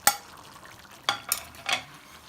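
A spoon stirs chicken biryani with green chillies, mint and coriander in a pot, giving four distinct scraping, clattering strokes over a soft sizzle, close and without talk.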